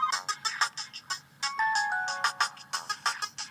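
A short electronic ringtone from the HTC Dream, the T-Mobile G1 Android phone, plays loud and alone in punchy rhythmic bursts with a brief gliding tone in the middle.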